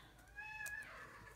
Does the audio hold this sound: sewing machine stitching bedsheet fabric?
no